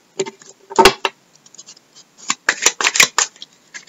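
A deck of tarot cards is cut and handled by hand, producing close, crisp papery snaps and shuffling rustles in scattered short bursts.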